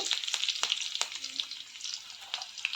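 Mustard seeds and curry leaves fry in hot oil, a steady bright crackle with quick popping bursts throughout.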